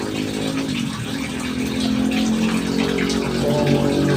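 Water gushes and splashes steadily into a catfish tank during a water change, a loud continuous rush with a rising tone as it fills.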